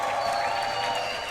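Crowd applauding at a women's parkour competition at the Parkour World Championships, a loud burst of clapping and cheering filling the whole moment.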